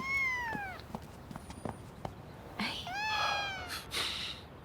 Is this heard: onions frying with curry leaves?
no